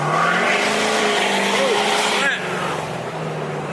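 A 6.7 Powerstroke diesel truck revs hard into a burnout, its engine roaring loud and continuous with squealing tires, then easing slightly near the end, while voices sound alongside.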